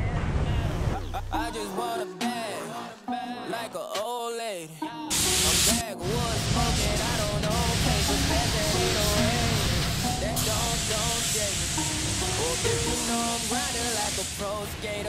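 A spray gun lays top coat onto an 18 ft boat inside a homemade backyard spray booth, giving a loud, steady hiss for most of the clip after a short stretch of voices at the start.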